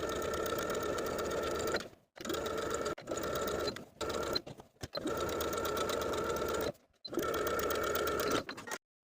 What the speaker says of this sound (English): I'm going to edge stitch close to the opposite folded edge of my binding all the way around the armhole